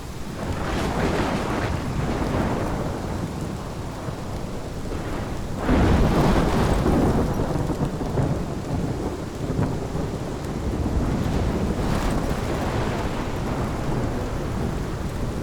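A thunderstorm in the video game Life is Strange: steady heavy rain roars throughout, broken by deep rolling thunderclaps, loudest near the middle, with no voices.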